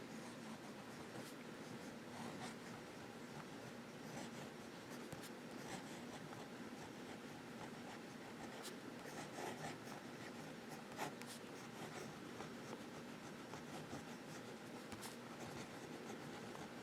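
A fountain pen nib scratches across paper in a continuous soft, dry stroke pattern with small rhythmic rasps and ticks, close up, quiet and steady throughout, with no talking.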